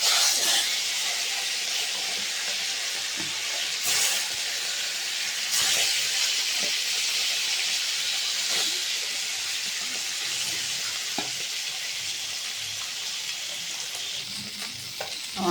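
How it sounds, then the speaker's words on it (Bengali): Fish frying in a kadai of hot oil for a ridge gourd and fish curry, a loud, steady sizzling hiss throughout with a few sharp spits and pops, no voices. "প্রথমে মাছটা ভেজে নেব"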